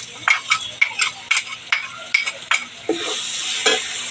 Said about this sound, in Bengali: মশলাটা কিন্তু দারুণ করে কষিয়ে নেব